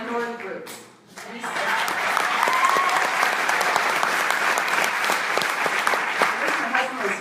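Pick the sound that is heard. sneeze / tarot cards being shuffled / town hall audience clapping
town hall audience clapping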